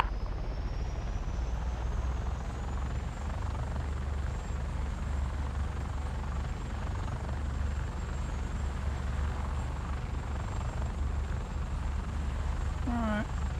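A helicopter in a video game lifts off with a steady, loud rotor and turbine drone that holds for the whole stretch. A voice speaks faintly beneath it.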